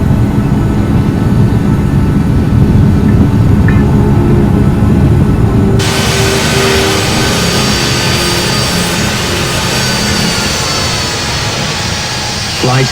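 Boeing 737 MAX jet engines spooling to takeoff thrust in the Infinite Flight game, a loud continuous roar and rumble that brightens into a broad hiss partway through, steady and close.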